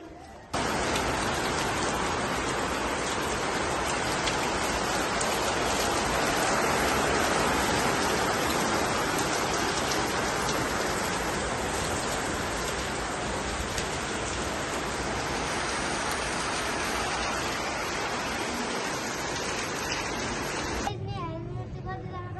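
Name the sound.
rain falling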